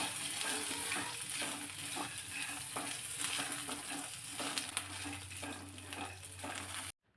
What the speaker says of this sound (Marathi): शेंगदाणे आणि खोबरं थोडेसे तेलामध्ये असे परतून घेतले ना